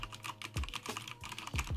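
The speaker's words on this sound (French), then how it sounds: "si on essaye le clavier. Ah ouais, c'est super agréable de taper dessus" Quick, uneven keystrokes clacking on a mechanical keyboard, close and fairly quiet, with a few heavier thocks mixed into the rapid tapping.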